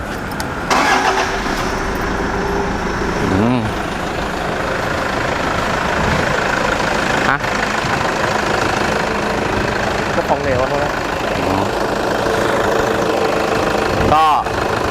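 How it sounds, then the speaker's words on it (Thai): The 3.0 V engine of a used 2015 Toyota Fortuner, a top-trim model due for servicing, runs close and loud with a steady idling rumble and a few brief clicks or revs, while someone talks over it. "เดี๋ยวเรามา ฟังเสียงเครื่องคันนี้กันดีกว่านะครับผมว่าจะแน่นแค่ไหน"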